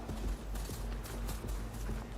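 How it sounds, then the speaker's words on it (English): Steady clip-clop of a horse's hooves at a quick trot or gallop in the video game Horizon Forbidden West, regular and rhythmic, close by with a low ambient hum underneath. "I really should have just used my horse for this."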